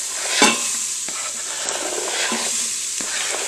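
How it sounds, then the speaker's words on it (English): Steady sizzling of onions, carrots, celery and shallots frying in an Instant Pot, a constant crackling hiss with occasional stirring scrapes, close and fairly loud. "I got a little sizzle going on there"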